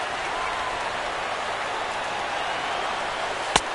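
Stadium crowd in MLB The Show 17 at a sold-out Houston ballpark, a dense continuous roar of many voices at an even level, broken near the end by one sharp crack.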